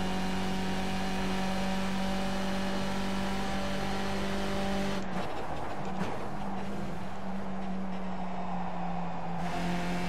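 Racing cars in a Formula racing video game drone with a steady engine whine that shifts and wavers as cars overtake, with loud continuous engine noise throughout.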